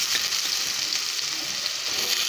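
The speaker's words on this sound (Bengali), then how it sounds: "এবার এগুলোকে আমরা একটু ফ্রাই করবো।" Chopped potato and tomato fry in hot oil with a steady, fairly quiet sizzle. Soft crackles run through it and faint stirring movements can be heard, with no talking.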